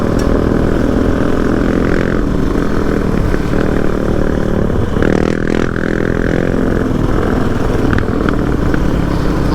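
A Yamaha Raptor 700 ATV, recently widened, rides a trail on Redbird Crest in Daniel Boone Forest. Its engine drones loud and close the whole time, with a steady throttle and a brief surge partway through.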